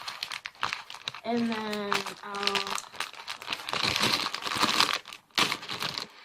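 Scissors cut through crinkly plastic packaging on a squishy toy shaped like donuts, with close rustling and crunching plastic, punctuated by brief speech.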